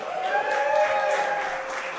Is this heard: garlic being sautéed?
no